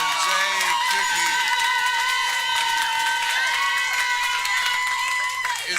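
Audience at a one-minute comedy showdown cheers and applauds for the winning comedian, a loud, dense, continuous wash of clapping and shouting that holds steady throughout.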